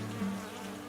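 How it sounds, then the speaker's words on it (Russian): Low, steady buzzing of bees heard in near-total silence during a quiet session in the Ishimbay district of Bashkortostan, a faint continuous hum with no voices. "Сложно сказать, что это жужжание пчелы."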